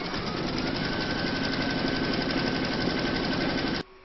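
A steady, close, rapid rattle comes from an embroidery machine stitching fabric held in the hoop for a large Celtic topper. It runs unbroken and alone for nearly four seconds, then stops abruptly.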